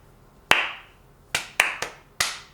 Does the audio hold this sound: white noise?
no